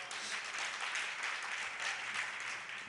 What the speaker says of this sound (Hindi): बुढ़े भी ताली बजा, युवा भी बजा, बच्चे भी बजा रहे, माताएं भी बजा रही